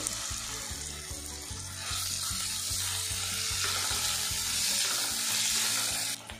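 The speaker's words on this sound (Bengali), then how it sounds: "আদা রসুন পেস্ট আর পেঁয়াজ একসঙ্গে কিন্তু বেশ ভাজা ভাজা হয়ে গেছে" Onion and ginger-garlic paste frying in a pan with a dense, continuous sizzle, as tomato goes in and is stirred with rhythmic scraping knocks, the hiss swelling slightly near the end.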